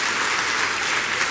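A church congregation applauds during an evangelical sermon, dense steady clapping filling the space at an even level throughout with no voices standing out.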